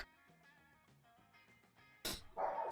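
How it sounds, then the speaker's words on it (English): A dog barks once sharply at about two seconds, then gives a whining yelp, over faint background music at low level. "If you hear the dog in the background"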